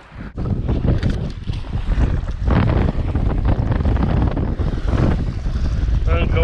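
Steady gusty wind roaring across the microphone at a lake, loud and continuous, with faint watery rushing underneath.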